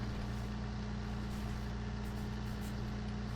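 A tractor engine idles steadily in the farming video game Farming Simulator 19, a constant low rumble with a faint hiss above it, unbroken and with no talk.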